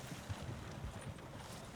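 Horse hooves clip-clopping in the Red Dead-based WildRP game, a quick, faint run of soft hoof beats at a steady trot beneath a noisy background.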